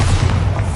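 Bombarda blasting spell cast in the Hogwarts Legacy video game: a short, dense, booming explosion with a heavy low rumble filling the whole moment, no voices.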